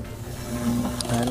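An automatic screw feeder with a vibratory bowl starts up and runs with a steady mechanical buzz and rattle. A brief higher clatter comes near the end.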